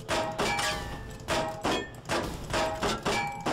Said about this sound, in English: Fucking exploding things!